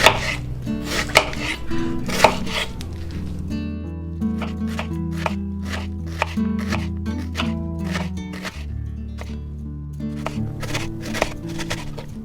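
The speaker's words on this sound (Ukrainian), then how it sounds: "цибульку порізали." A knife chopping onion on a board for a quick noodle-nest dinner, with a rapid, steady rhythm of crisp close-up cuts continuing throughout, no talk.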